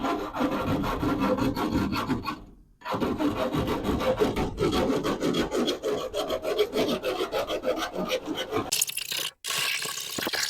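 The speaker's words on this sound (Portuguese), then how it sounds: "Passar a lima assim, passar aqui na parte reta." A hand file rasps back and forth over a cut edge of a cargo trailer's window opening, removing burrs in rhythmic, close strokes, with a brief pause partway through.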